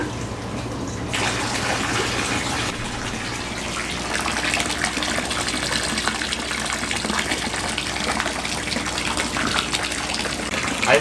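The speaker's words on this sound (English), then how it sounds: "Alright, so we have water going in the pool." Water gushes steadily into an indoor pool pond, a continuous hissing, splashing pour that runs unbroken from start to finish with no talk.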